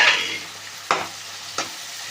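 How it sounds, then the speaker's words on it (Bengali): Spice paste with ginger frying in a pan for doi katla, a loud steady sizzle interrupted by two distinct stirring scrapes. "এবার ভালো করে মশলাটাকে কষিয়ে দেবো"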